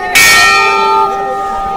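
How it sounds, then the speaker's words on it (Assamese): Close, loud strike of the temple bell at Kedarnath, a single bright clang whose ringing overtones hang and decay over about a second in an open mountain setting. "বজালোঁ ফাইনেলি ঘণ্টা"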